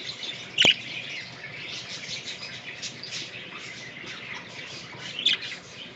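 An English budgie chirps a couple of short, bright calls close by, one near the start and one near the end, over a soft background of faint chatter and rustling.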